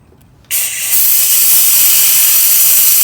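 A compressed-air brake bleeder on a 2009 Corolla Turbo S bursts into a loud, close hiss after a quiet start and keeps a sharp, steady rush of air to the end.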